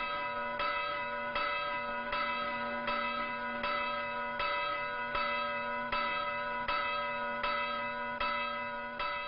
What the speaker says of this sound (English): You hear bells all over this island.